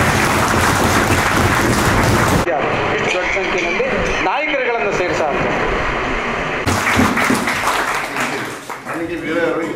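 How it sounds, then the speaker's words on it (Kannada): An audience breaks into applause at a meeting of a state federation of SC/ST organisations. A dense burst of clapping opens the clip, fades under voices and room noise in the middle, then swells again near the end. "ಇದಕ್ಕೆಲ್ಲ ತಮ್ಗೆ ಒಪ್ಪಿದೆ ಅಂದ್ರೆ ಇನ್ನೂ ಸರಿ ಜೋರಾಗಿ ಚಪ್ಪಾಳೆ"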